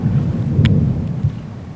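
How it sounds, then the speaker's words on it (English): Thunder from an approaching storm system over a northern backcountry canoe route rumbles loud and close, a deep rolling boom with a brief sharp crack partway through, heard alone with no voices. "Now we got this big storm system moving in."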